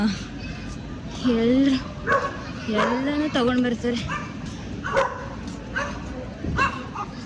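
On a German railway platform, a dog gives several high yips and whining barks spread across several seconds, mixed in with people talking nearby.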